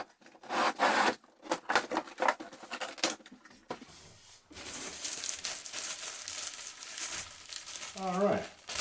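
Cardboard shipping boxes holding mountain bike parts are cut open, making a series of rustling, crinkling and scraping sounds at close range, with scattered sharp rips between them and a voice talking near the end.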